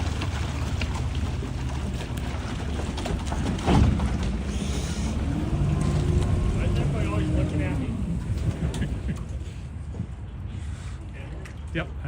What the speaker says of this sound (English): Here comes the boat.